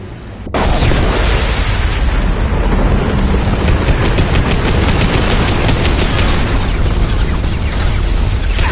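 Explosion in the video game Mass Effect 2, a loud sustained roaring blast with dense rumbling debris that fills the whole stretch without pause.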